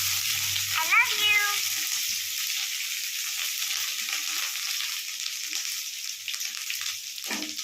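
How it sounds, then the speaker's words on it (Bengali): Grated ginger frying with whole spices in hot oil, a steady hiss of sizzling under a brief stir of the spoon, fairly quiet and continuous with no voices. "এবার দেব গ্রেট করা আদা। একটু নাড়িয়ে ছাড়িয়ে নিই ভালো করে"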